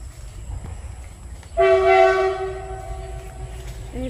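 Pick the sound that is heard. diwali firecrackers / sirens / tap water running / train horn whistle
train horn whistle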